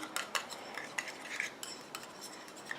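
A small utensil stirs a homemade eye cream mixture after hyaluronic acid is added, making light, irregular clinks and scrapes against a container, close and quiet, with no voices.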